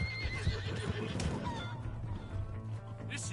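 A horse whinnies in a wavering, high call amid a busy mix of Red Dead Redemption 2 game ambience and scattered clatter, with no talking.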